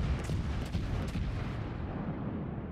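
A battleship's main guns fire a salvo in a World of Warships battle, a deep booming rumble that swells at the start and rolls on as a long, loud, low roar with no voices over it.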